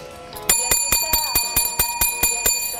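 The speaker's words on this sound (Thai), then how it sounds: "กระดิ่งมันถือกดอย่างนี้ก็ได้นะ" A hand-held bell is pressed about ten times in a steady, even rhythm, each ring bright and metallic with a ringing tail, loud and close, with no talk over it.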